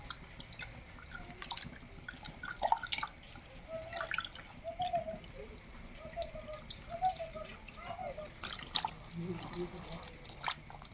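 Soaked tamarind is squeezed by hand in a bowl of water into juice, giving soft wet squelches, drips and trickles in an irregular rhythm, close and faint.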